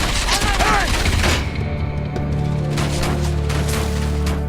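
Gunfire from mechs in the action game Enslaved: Odyssey to the West, loud dense bursts of shots and heavy impacts over a rumbling low drone, with voices mixed in.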